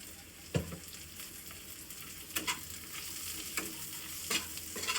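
Garlic cloves with a little turmeric fry in a pan, giving a steady soft sizzle broken by a few sharp scraping stir strokes.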